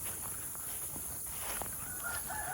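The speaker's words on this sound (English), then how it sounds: "This chicken wants to drive the skid steer." A chicken near a skid steer on an off-grid homestead clucks and crows in short bursts at close range over a steady faint background hiss.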